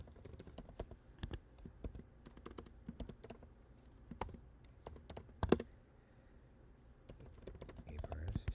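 Someone types a username and password on a computer keyboard: a scatter of sharp, close key clicks in irregular bursts with short pauses, a few harder taps, and faint murmuring near the end.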